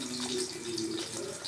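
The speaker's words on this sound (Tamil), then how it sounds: "மீன்ஸ் எறா மண்டை அரைச்சது இதில் ஊற்ற போகிறோம்." Ground shrimp heads mixed with water pour into a cloth strainer as a brief, steady liquid rush with a faint tonal hum beneath it.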